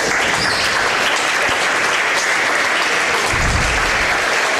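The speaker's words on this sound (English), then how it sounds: "Watson Grantham checks out to a round of applause." Steady, dense applause fills a high school basketball gym on Parents' Night as a senior player checks out of a game, loud and sustained throughout without pause.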